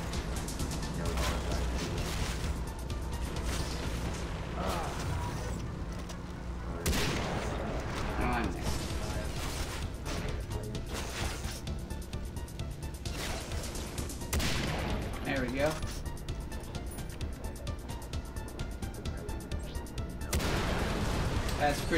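Rapid gunfire rattles through a firefight in Far Cry 3: Blood Dragon, with repeated bursts and volleys of shots over a steady game soundtrack while someone talks intermittently.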